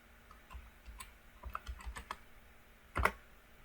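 Keys tapped on a computer keyboard while typing a command, a cluster of light close clicks followed by a sharper, louder keystroke near the end, heard alone.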